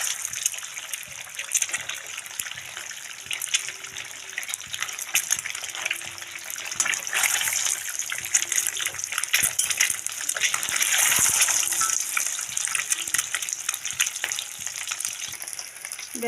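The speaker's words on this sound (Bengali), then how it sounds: "ডিমগুলো আমি এখন একটু ভেজে নেব।" Eggs fry in hot oil in a pan for an egg curry, giving a steady crackling sizzle with bursts of spattering throughout, close and fairly loud, with no talking.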